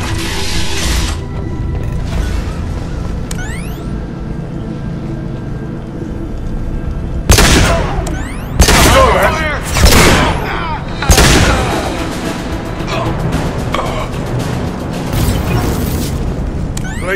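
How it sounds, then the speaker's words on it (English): Blue Suns mercenaries and Vorcha trade gunfire in a Mass Effect 2 battle: loud, close bursts of shots and heavy booms at irregular intervals over a steady mechanical hum and rumble. "Blue Suns and Vorcha shooting anything that moves."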